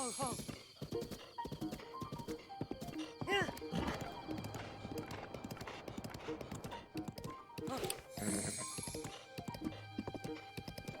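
Hooves clip-clop steadily from a temperamental horse in the Breath of the Wild video game, broken by loud whinnies near the start and again around eight seconds, with game music and someone talking over it.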